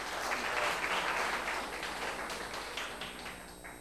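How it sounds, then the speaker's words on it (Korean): Warm applause from an audience welcoming a guest speaker at a Korean arts and humanities concert-lecture, a full, dense roar of clapping that holds steady and then slowly tapers off. "큰 박수로 환영 부탁드립니다"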